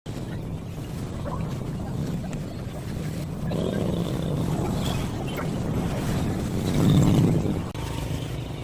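A boat heading out from Labuan Banggai toward Bangkurung district on a Sunday morning, with a steady low engine rumble, wind and water wash, rising somewhat louder midway and continuing throughout.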